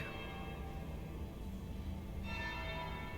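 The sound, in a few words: bell ringing in Dragon Age: Inquisition video game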